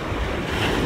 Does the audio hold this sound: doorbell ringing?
no